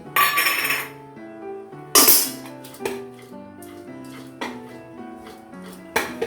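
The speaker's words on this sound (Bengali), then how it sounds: "আবারও খুব ভালো করে ঝাঁকিয়ে দেব।" Biryani pot being shaken after ghee and biryani spice are added, giving a series of sharp metallic clinks and clanks at irregular intervals, close and fairly loud, with no talking.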